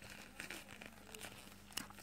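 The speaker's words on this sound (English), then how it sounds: "So let's just go ahead and cut the foam out of the hole" A blade cuts glued foam out of a hole in a toy, making soft crinkling and tearing scratches close by, with a few sharper crunchy snips.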